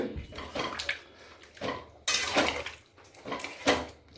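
A lid clanks onto a pot of mutton and potatoes, with a few sharp metallic knocks and scrapes of cookware heard up close and mostly alone.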